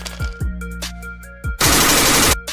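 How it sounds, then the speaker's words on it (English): Rapid gunfire aimed at a moving car's tire, several sharp cracks with low thumps followed by a dense, loud burst of automatic fire lasting nearly a second, close and without talk. "Yo, Dogberry, see if you can pop a tire on that bitch"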